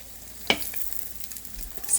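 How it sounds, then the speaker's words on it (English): Breakfast quesadilla with avocado frying in a pan, a soft steady sizzle broken by a sharp clatter and a few small scrapes, heard close with no voices. "We'll fry it until it gets a little more brown on the other side"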